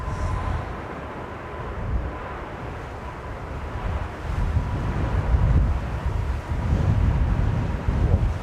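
Wind buffets the microphone at Manchester Airport, a constant low rumbling roar that grows stronger in the second half, with no voices over it.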